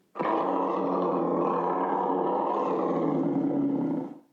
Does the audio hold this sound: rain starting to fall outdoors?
no